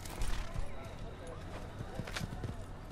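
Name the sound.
horse galloping in video game Assassin's Creed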